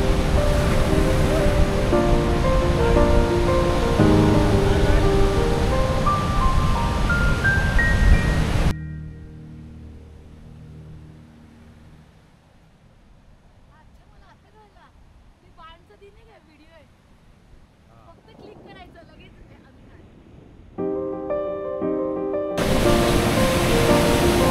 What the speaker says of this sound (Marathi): या समुद्राच्या लाटा